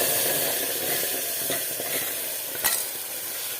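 Steady, crackling sizzle of mustard seeds, cumin and two dried red chillies hitting hot oil for rasam, with a few louder pops and a brief stir partway through; close and continuous, no voices.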